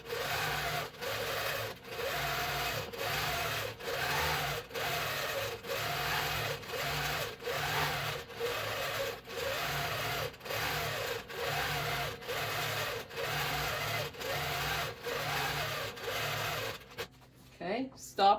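A 24-inch longarm quilting machine stitches a quilt, a rapid steady mechanical chatter pulsing in regular waves for most of the time, loud and close, then stopping abruptly near the end.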